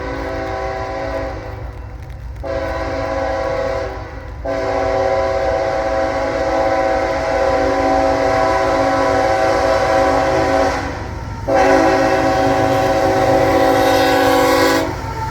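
A northbound freight train rolls past at Folkston, Georgia, a continuous loud rumble of wheels and cars under repeated long blasts of the horn, close by.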